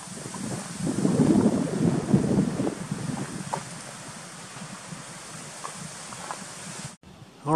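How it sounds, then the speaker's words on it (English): Gusty wind buffets the microphone on a mountain trail near the Bear Lake trailhead in Rocky Mountain National Park, rising to a louder roar early on, then easing to a steady rush before a brief dropout. "And the wind is still blowing."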